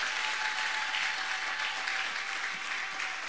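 A church congregation applauds and cheers, with dense, sustained clapping that fills the space at an even loudness from start to finish and no speech over it.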